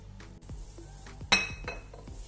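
Small glass juice bottles, hot from oven sterilizing for mint syrup, clink together in a few light, close taps with one brighter ring near the middle, in a quiet kitchen.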